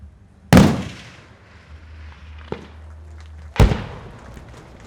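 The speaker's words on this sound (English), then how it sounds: "The sniper team will destroy enemy radar assets with sniper rifle barrier" Two loud, sharp cracks of a 12.7mm anti-materiel sniper rifle fired at a radar target during a live-fire exercise, each with a rolling echo, plus a fainter distant shot between them.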